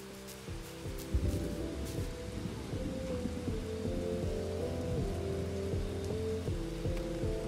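Steady rainfall in the video game Bugsnax, a continuous hiss with low thunder-like rumbles and sustained game music tones running underneath.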